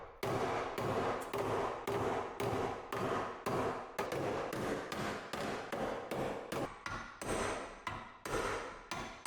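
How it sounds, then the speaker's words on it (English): Repeated hard hammer blows on the metal body of a salvage-auction 5.0 Mustang near the fuel filler neck and frame rail, about two strikes per second, sharp and close, with brief ringing between hits. "I'm gonna keep hitting stuff with hammers"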